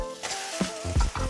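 Egg-soaked bread hits a hot pan, setting off a close sizzle broken by a few soft thuds and scraping pushes, short and fairly quiet.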